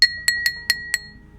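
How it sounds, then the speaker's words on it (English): Metallic fingers tap the side of a glass five times in quick succession, each a bright, clear ringing clink that lingers briefly, close up with no voices. "tap the side of the glass with one of my fingers"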